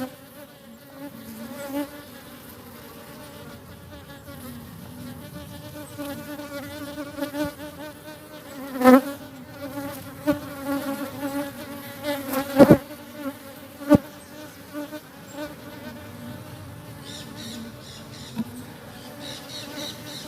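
Steady honey bee buzzing around a hive hums throughout, close and continuous, with a few sharp knocks and thumps of frames partway through.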